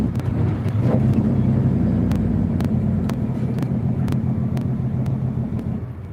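A loaded truck rolls along with a steady low engine rumble and wind noise from inside the cab, while a faint recurring ticking runs through it and no distinct gear changes stand out.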